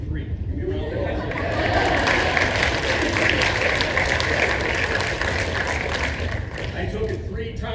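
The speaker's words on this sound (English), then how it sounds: "Give me a round of applause" Audience at a school event breaks into steady applause, a dense wash of clapping with crowd chatter and voices underneath, sustained for several seconds.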